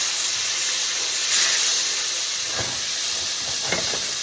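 Anchovies with garlic melting over a lowered flame in a pan for Sicilian bucatini with cauliflower, giving a steady close hiss and sizzle with a few soft clinks and stirring knocks near the end.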